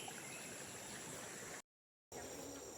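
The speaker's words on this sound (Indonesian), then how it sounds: "Ini air dia sangat deras juga nih." A large, fast-flowing river rushes with a steady, dense broadband roar, briefly cut off by a moment of silence before the same constant wash returns, faint and distant.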